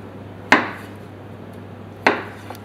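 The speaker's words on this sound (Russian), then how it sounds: "Очищенный картофель нарезаю большими кусками." A knife cuts peeled potatoes into large chunks on a board, giving two sharp, separate chops about a second and a half apart, with a faint third tap near the end and a low steady hum underneath.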